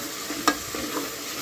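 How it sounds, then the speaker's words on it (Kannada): A spoon scrapes and stirs chilli powder and ground paste through biryani masala in a pan, one sharp clink standing out over a faint, steady sizzle; no voices. "ಚೆನ್ನಾಗಿ ಮಿಕ್ಸ್ ಮಾಡ್ಕೊಳ್ಳಿ."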